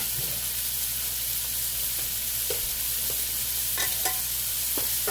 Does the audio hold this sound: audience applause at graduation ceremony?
no